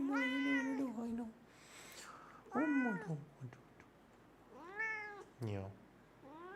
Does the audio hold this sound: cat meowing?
yes